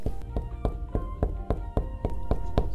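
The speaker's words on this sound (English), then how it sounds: "Do we knock or just go in? I suppose we should knock." Someone knocks on a radio studio door in a steady series of about nine evenly spaced, sharp raps, close up and with no talking over them.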